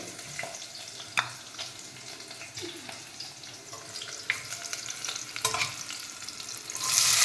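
Onions and green chillies fry in hot oil, a continuous close sizzle broken by occasional clinks and stirring scrapes, with no one talking.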